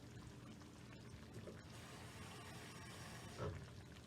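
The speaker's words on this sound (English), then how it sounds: "I'm going to add a little bit of water." A little water pours into a pan of Italian sausage, a soft close trickle and faint gurgle, ending in a brief louder splash near the end.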